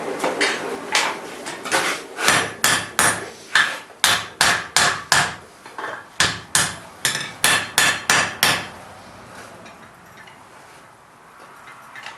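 A hammer strikes hot steel on an anvil while bolt jaw tongs are forged, some twenty loud ringing blows in steady bursts of four to six, stopping near the end to leave a quiet room.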